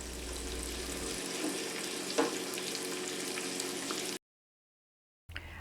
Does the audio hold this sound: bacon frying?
yes